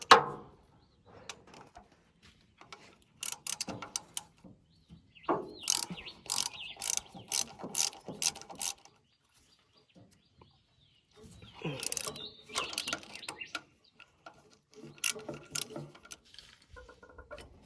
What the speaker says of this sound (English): So we'll undo this drive now.